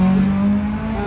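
At Motofest Coventry, a car crosses the finish line with a loud, steady engine hum that fades slightly as it moves on. The burst is short and close, with no talking.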